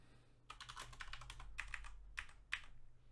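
Typing on a computer keyboard while editing in the vim editor: a quick run of close key clicks followed by a few separate, sharper taps, over a low steady hum.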